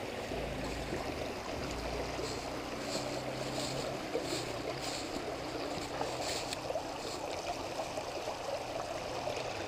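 Water flows steadily through a small woodland creek along South Pedlar ATV trails in Virginia, a continuous broadband rush and trickle heard up close with no talk over it.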